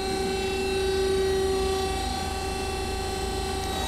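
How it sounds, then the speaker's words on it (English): A Hyundai-Kia SKT-160A CNC lathe runs with its 6-inch three-jaw chuck spindle turning at speed beside a loud hydraulic unit, a constant close drone with steady tonal whines and no break throughout. "The hydraulic unit is a little loud, but currently the spindle's running at"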